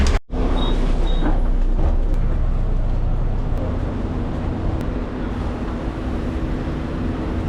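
A city bus pulls in at a stop with a loud, steady engine rumble and broad road noise, a brief hiss near the start, continuing close by throughout.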